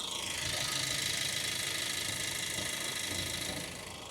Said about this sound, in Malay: Yang ni maksudnya enjin dah panas. Cuba dengar balik.